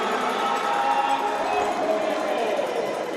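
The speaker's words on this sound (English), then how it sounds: "home crowd made a lot of noise out of that timeout" Home crowd noise at a men's college volleyball game during a timeout, a diffuse roar of cheering and chatter from the stands, moderately loud and continuous with a faint tonal hum underneath.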